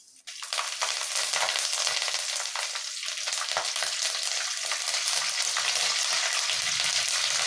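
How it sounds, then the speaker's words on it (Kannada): Curry leaves hit hot oil with mustard and cumin seeds, bursting into a loud, steady crackling sizzle that continues after a quiet start, with no talk over it. "ಸ್ವಲ್ಪ ಕರಿಬೇವು ಹಾಕ್ತಾಯಿದ್ದೀನಿ"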